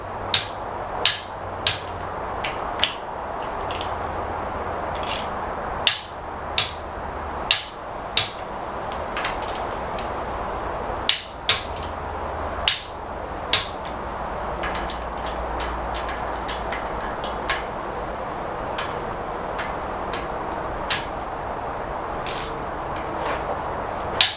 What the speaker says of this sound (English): That's how you tighten up your lug nuts.